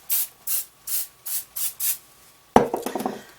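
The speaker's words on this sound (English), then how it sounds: "A little bit of spray and just back comb it very lightly." Six short hissing bursts of aerosol hairspray onto hair come in a steady rhythm, followed by soft rubbing and brushing sounds close by.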